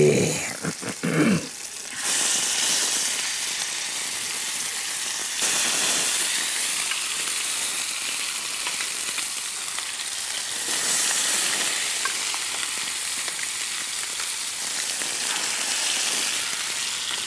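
Chicken drumsticks hit hot oil in a pan and fry with a loud, steady sizzle that continues unbroken after a brief clatter at the start.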